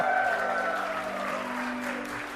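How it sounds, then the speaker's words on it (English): Audience applause fills Reeves Theater, a historic venue in Elkin, North Carolina, during a live show: a steady, dense wash of clapping that holds level for a couple of seconds before tapering slightly. "Applause."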